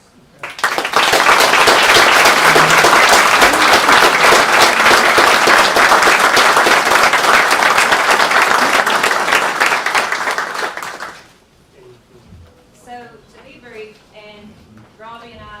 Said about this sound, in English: we all need to give a round of applause for the hardworking youth and for the parents that let the kids do this